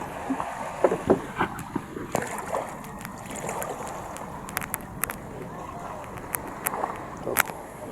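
Engineless boat is paddled by hand on open water, with scattered splashes and knocks of paddle strokes under wind, while someone talks over it.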